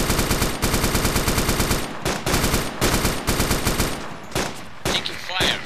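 Rapid automatic gunfire in a realistic war video game, loud sustained bursts of machine-gun fire separated by brief gaps, with scattered single shots toward the end.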